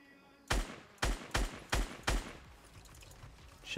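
A gunfight in the Fortnite Battle Royale video game produces five sharp, loud gunshots fired in a steady rhythm about half a second apart, each one ringing out briefly before the next, followed by a quieter tail.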